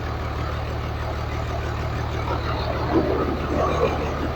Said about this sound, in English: Dude, I'm in a engine run!